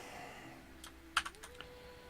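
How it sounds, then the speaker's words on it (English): A few soft, scattered keystrokes on a computer keyboard, faint and close, with a low steady hum underneath and no talking. "I'm typing."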